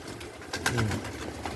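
A pigeon coos nearby in a soft, throaty burst, a couple of low rolling notes over quiet background hum.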